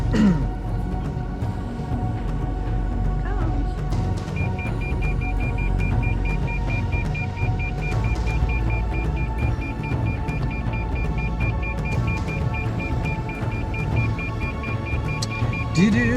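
A car creeping slowly through a narrow drive-thru tree in California, its engine a low steady rumble close by, with a faint thin electronic tone joining partway and no talk.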